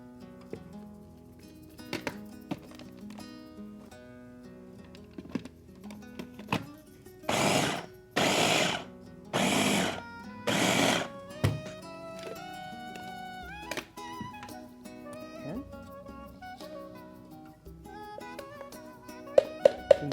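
An electric kitchen appliance with a blade mixes soft cheese and butter for gluten-free cooking, giving four short, loud, evenly spaced whirring pulses amid quieter kitchen clatter.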